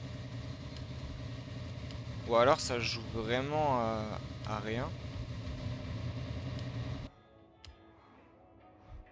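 A Lamborghini Sián Roadster in Forza Horizon, fitted with an engine swap, gives a steady low engine drone beneath someone talking, then the engine drops away abruptly near the end.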